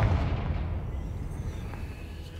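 A Confringo blasting spell explodes in Hogwarts Legacy, a loud, low boom at the start that fades into a rumbling decay.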